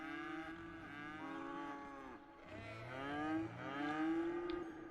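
Cow mooing sound effect from the Cities: Skylines city-building game, a long, loud bovine lowing with drawn-out rising and falling calls running through nearly five seconds, no talk over it.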